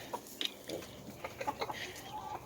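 Rocky the rooster and nearby hens cluck in soft, scattered bursts, faint and somewhat distant.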